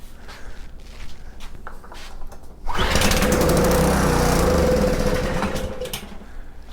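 Subaru EA190V small engine cranking after fuel is put down the throat, a loud burst of rough sputtering and popping that starts suddenly, runs for a few seconds, then fades.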